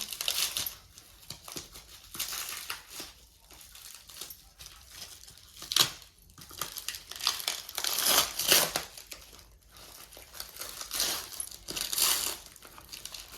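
A packed gift is unwrapped, with paper crinkling and crunching in irregular bursts, some sharp tearing rustles and louder crumples near the middle, close to the listener and without talk.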